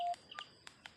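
A telephone keypad sounds four short DTMF tones in a sparse, uneven sequence, with the first tone longer and clearer than the rest, heard alone without any talk.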